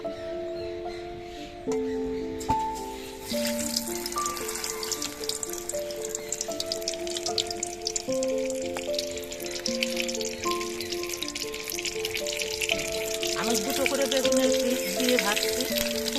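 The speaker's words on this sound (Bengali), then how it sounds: "এবার এখান থেকে একটা করে বেগুনের পিস নিয়ে এই ব্যাটারের মধ্যে ডুবিয়ে আমি তেলের মধ্যে দিয়ে ভেজে নেব" Pieces of eggplant dipped in batter and dropped into hot oil, a soft continuous frying sizzle that swells and thickens partway through under background music.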